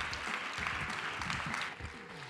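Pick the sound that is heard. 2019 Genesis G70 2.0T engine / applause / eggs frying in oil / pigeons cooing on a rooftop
applause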